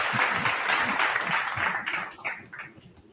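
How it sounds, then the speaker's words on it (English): A small group gives a short round of clapping and hand applause that fades out after about two seconds, fairly close and moderate in volume. "Give me my round of applause"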